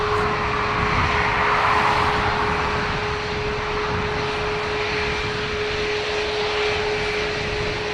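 A Ryanair jet airliner at Dublin Airport roars continuously with a steady engine whine, loud at first and easing slightly, heard alone without voices.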